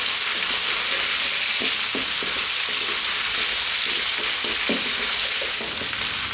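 Salted potatoes fry in a pan with a loud, constant hissing sizzle, while a utensil knocks and scrapes through them in scattered strokes, with no voices.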